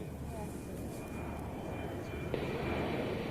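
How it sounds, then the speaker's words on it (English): Jet aircraft making a slow flyby, a distant, steady roar with a faint whine that holds evenly and swells slightly near the end, heard at low level with some speech mixed in. "Right now we are on a slow configured flyby. Today we have a special feature, jet noise, sound of freedom."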